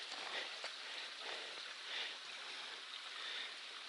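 A mountain stream on the Appalachian Trail flows over rocks at a trail crossing, a steady, close hiss of rushing water with gentle surges and no talk.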